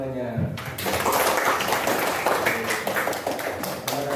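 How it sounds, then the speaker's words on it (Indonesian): Children in a classroom clap together in a busy, continuous round of applause that starts just after a teacher's voice and carries on to the end. "Ayo kita beri tepuk tangan untuk kita semuanya."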